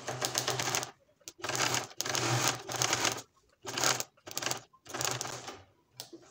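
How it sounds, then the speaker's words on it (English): A sewing machine runs a loose stitch along a pencil skirt in rapid whirring bursts, starting and stopping about six times with brief quiet gaps, close and clear. "Now for my settings, I'll return it to the loose stitch. Okay, and we will start sewing."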